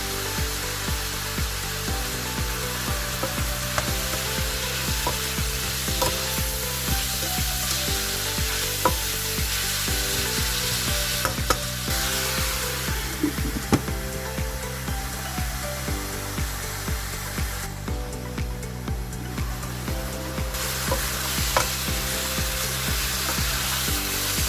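Filipino pansit bihon guisado rice noodles are stir-fried with soy sauce, black pepper and flavored salt, producing a steady, loud sizzle throughout, with the scrape and clatter of stirring recurring in regular strokes.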